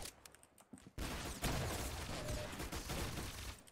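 Sustained rapid gunfire from a shooter video game, faint overall, beginning with a few scattered shots and then turning into a dense continuous burst that runs to the end.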